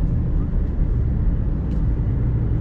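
A Nissan Rogue with a rough-driving fault gives off a continuous deep rumble while on the move, a loud, steady low drone with road noise and no clear breaks.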